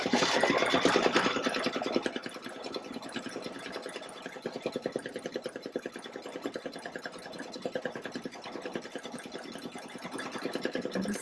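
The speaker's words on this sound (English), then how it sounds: "start the embroidery." An embroidery machine stitches a design on paper with a steady, rapid, rhythmic needle chatter that is loudest at the start and continues without pause.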